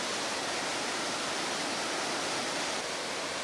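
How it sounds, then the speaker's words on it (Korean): Iguazu Falls, a vast chain of some 270 waterfalls, roaring as a dense, even rush of falling water, loud and unbroken with no voices. "270개의 폭포로 이루어진 세계적인 관광 명소 이과수."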